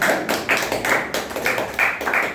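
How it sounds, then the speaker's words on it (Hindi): At a seminar, an audience claps for a speaker, with quick, fairly even bursts of hand claps at about three or four per second, loud and close, and no talking. "ताली बजा रहा तो जोरदार बजाइए सर के लिए"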